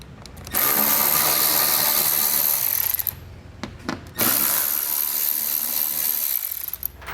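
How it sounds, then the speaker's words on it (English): A power tool with an 8mm socket spins out fasteners on a panel under a vehicle, giving two loud sustained whirring bursts split by a short pause with a few clicks, close by. "We'll use an 8mm socket to remove these 2."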